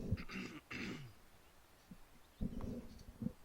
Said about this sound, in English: I need to clear my throat here